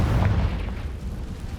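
A Confringo blasting curse explodes in the Hogwarts Legacy video game, giving a single deep, rumbling boom that fades into a low, sustained roar.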